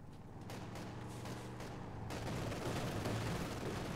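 Rapid automatic fire from a 222 armored car in a video game, a dense rattling stream of shots that grows louder and more continuous after the first couple of seconds.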